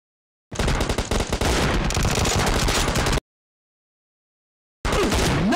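Sustained automatic gunfire in a PUBG team deathmatch M24 challenge, loud and close, rattling for about three seconds before dropping to silence, then another burst starts near the end.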